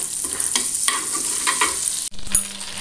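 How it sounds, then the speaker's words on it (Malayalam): Butter dropped into hot oil in a pan for a masala base sizzles loudly and steadily, with a brief break and a few stirring scrapes near the end. "നമ്മൾ ആ ഓയിലിലേക്ക് കുറച്ച് ബട്ടർ ഇട്ട് കൊടുക്കുന്നുണ്ട്"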